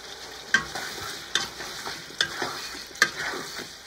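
Onions stir-fried for a lamb stir fry, with a spatula scraping and tossing at regular intervals over a soft, continuous sizzle, each stroke standing out as a distinct close clack.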